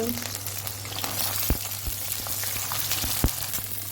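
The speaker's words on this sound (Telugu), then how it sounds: "సో ఇవైతే బాగా వేగాలి" Carrot, tomato and chillies frying in a pan with whole spices, a continuous crackling sizzle punctuated by a few sharp stirring clinks.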